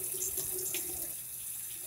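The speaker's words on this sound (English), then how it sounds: "That's me washing a dish." Tap water runs steadily over a dish being washed with soap in a sink, a close, continuous splashing hiss lasting the whole moment with no voices over it.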